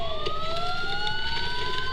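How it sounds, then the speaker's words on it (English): Police sirens wail in the Batman: Arkham Asylum video game, several rising tones layered over a low rumbling background, steady and fairly loud throughout without any talking. "Sirens. The police."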